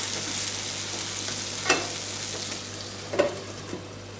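Rava roti cooking in a covered pan, a soft continuous sizzle and fry hiss with a low steady hum beneath and a couple of faint clinks or taps.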